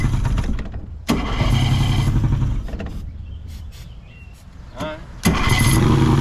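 A homemade boat's gasoline engine being started with the choke up: it cranks, catches and runs roughly, then dips and surges again, close and loud with people talking over it.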